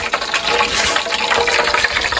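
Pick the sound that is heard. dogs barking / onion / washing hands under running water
washing hands under running water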